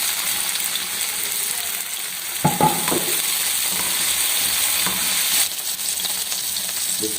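Tomatoes go into a frying egg and green chili dish, giving a steady close sizzle with brief louder bursts of stirring and spattering; no talking.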